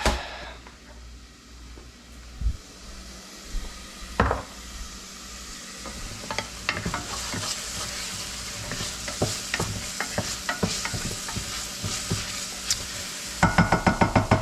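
Tomato and spices frying in a pan for Moroccan couscous, stirred with a utensil: a steady sizzle runs throughout, with scraping stirs and clinks growing frequent, and a quick burst of taps near the end.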